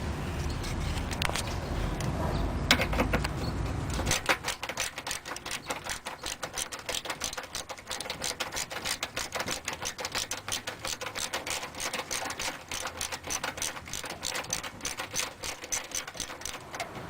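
Rapid ratchet clicking loosens a 10mm bolt holding the bumper to the fender on a 2004-07 Scion tC, a steady close run of fine ticks after a brief louder rustle at the start, with no talk.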